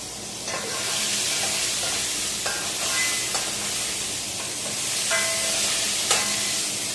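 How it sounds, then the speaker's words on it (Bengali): Eggplant pieces sizzle and fry alongside already-fried potatoes in a pan, a steady bright crackle with occasional stirring scrapes, close and continuous with no talking. "এই যে বেগুনগুলো ছাড়া হচ্ছে"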